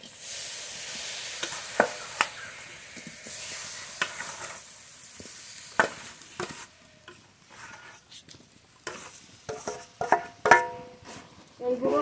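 Sugarcane jaggery heated in a pan and stirred to make chira moa, with close scraping strokes at an uneven rhythm over a soft, steady sizzle and occasional sharper knocks against the pan.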